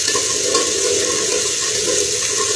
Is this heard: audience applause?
no